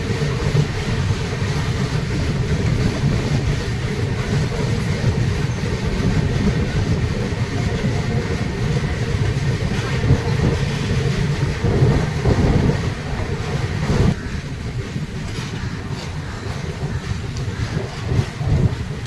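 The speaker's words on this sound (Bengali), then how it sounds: "দুপুর প্রায় 2টোর সময় ট্রেন পাকুড় স্টেশন এন্টার করছে।" The Kamakhya–LTT Karmabhoomi Express pulls into Pakur station in Jharkhand with a loud, unbroken rumble of wheels and carriages, plus wind buffeting the microphone and no voices.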